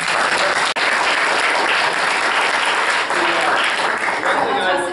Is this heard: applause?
yes